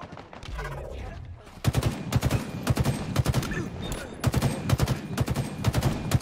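The battle rifle (BR) in Halo Infinite fires in rapid, evenly spaced bursts of sharp, punchy shots, loud and close, repeating in clusters after a quieter opening.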